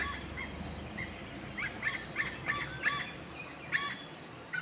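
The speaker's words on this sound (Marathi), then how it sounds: "त्या माडावर वरटतोय पक्षी तो" A large black-and-white bird calls from a coconut palm in a Konkan village near Guhagar, giving a series of sharp, honking notes in a loose rhythm at moderate distance over steady outdoor background noise.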